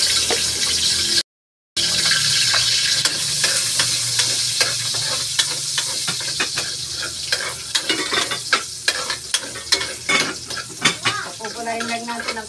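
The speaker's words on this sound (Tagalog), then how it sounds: "magbigisa tayo ng bawang" Garlic sautéing in a hot pan for pork afritada, a steady close sizzle with scattered clinks and scrapes of stirring, growing busier toward the end, no talk over it.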